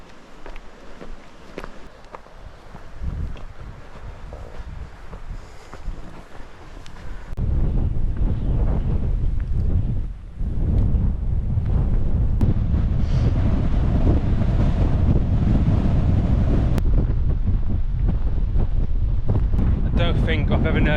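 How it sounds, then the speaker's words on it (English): Strong, steady wind on the Lawley hilltop in the Stretton hills buffets the microphone in a loud, continuous roar that grows heavier after the first few seconds, with faint footsteps beneath. "I don't think I've ever known the Lawley not to be windy."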